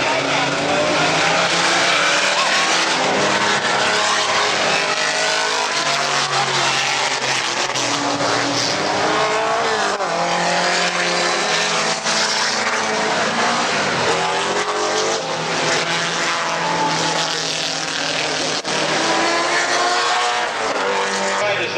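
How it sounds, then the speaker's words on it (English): Vintage race cars, among them a number 77 Corvette, race past at Laguna Seca, a loud, continuous roar of engines with shifting pitch that fills the whole stretch, while a commentator talks over it. "it is the number 77 Corvette with Bob Donner in the lead"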